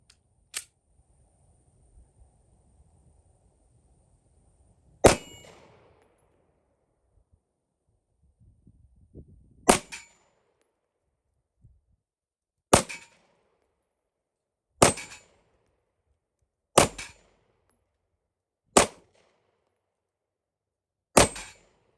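Single shots from a Smith & Wesson M&P Shield 9mm EZ pistol at a shooting range, seven sharp reports spaced a few seconds apart after a quiet stretch, loud and close with faint handling noise between them.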